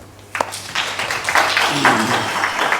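Brief, modest audience applause at a fireside chat on mobility in Nigeria, a small group of hands starting with a sharp clap, then a loose patter of clapping with a little talk mixed in.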